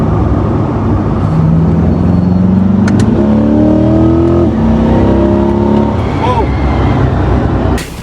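Supercar driving past on Șoseaua Nordului in Bucharest, loud engine note rising and falling as it passes, with a second revving pass in steady traffic noise nearby.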